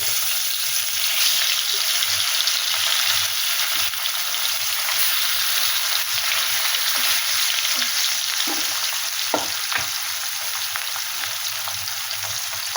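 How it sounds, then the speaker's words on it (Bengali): Fish rubbed with turmeric and salt fries in hot oil, giving a continuous loud hiss of sizzling with a few soft clicks and bumps from the pan, and no voices. "তেল গরম হয়ে গেছে, মাছে হলুদ লবণ মাখিয়েছি। এই যে মাছগুলো ভেজে নেব।"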